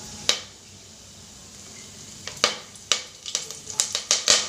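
Curry leaves fry in hot oil for a village-style sprouted horse gram sambar, giving a soft continuous sizzle broken by a series of sharp spits and crackles that grow more frequent toward the end.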